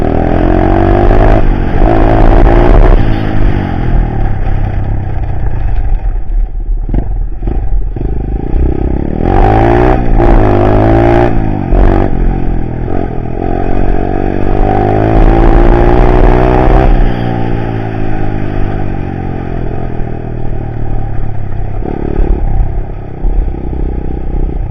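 A 110 semi-automatic dirt bike accelerating, a loud close engine that rises and falls through repeated revs and gear changes, with rattling throughout.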